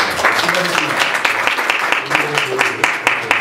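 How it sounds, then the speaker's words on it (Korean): Members at a church council meeting clap in encouragement: a scattered round of applause with distinct individual claps, heard over a voice that continues speaking through it. "한번 박수로 한번 격려 한번 해드릴까요?"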